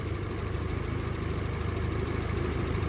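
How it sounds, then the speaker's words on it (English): A KA24E engine in a Nissan 240SX idles steadily and loudly with a constant, even rumble, running without its idle control valve hooked up. "We're just adjusting our idle off of the throttle plate screw as of now."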